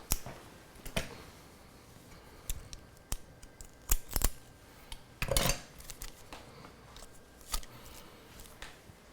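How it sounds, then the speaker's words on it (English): Scissors snip through the tape holding a bundled Ethernet cable, with a series of sharp, close clicks and cuts at uneven intervals, some doubled, over faint handling noise. "So I'm going to have to cut the tape on this."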